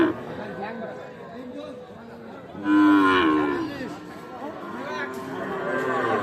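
Cattle moo loudly and repeatedly amid a busy crowd at the Ambari cattle market in Dinajpur, Bangladesh, with people chattering and calling out nearby throughout.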